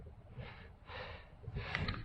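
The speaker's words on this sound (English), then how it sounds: "I'm just heavy breathing" Heavy breathing from a hiker climbing uphill on a fell walk, three deep breathy exhalations in a slow rhythm, close and fairly quiet over low outdoor rumble.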